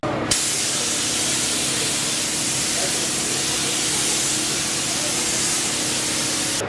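Sealer sprays steadily onto a front car bumper hung on a paint stand, a loud continuous hiss that runs unbroken for several seconds with no other sound.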